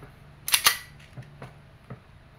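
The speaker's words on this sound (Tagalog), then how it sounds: "This is the Glock 19X Umarex Airgun Pistol CO2 powered." An Umarex Glock 19X CO2 airgun pistol fires one sharp, loud pop, followed by a few fainter clicks, heard close with no talk.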